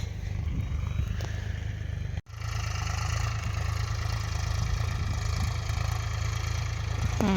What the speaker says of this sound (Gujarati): અત્યારે ટ્રેક્ટર ચાલુ જ છે પાડોશીને